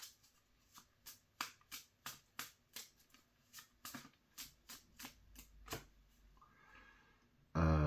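Tarot cards are drawn and handled one by one, making a quiet run of about fifteen crisp flicks and slaps at a fairly even pace, followed by a louder burst of handling at the very end.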